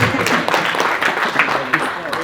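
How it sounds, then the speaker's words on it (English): Audience applause at a public gathering, a loud, fairly dense patter of clapping hands mixed with crowd voices and murmurs throughout the short stretch. "Let's give that a round of applause."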